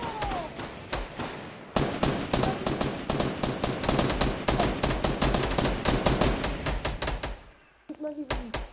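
Gunfire in the Fortnite battle royale video game comes as rapid, loud, evenly spaced shots for most of the stretch, with a short lull near the end followed by a few more bursts.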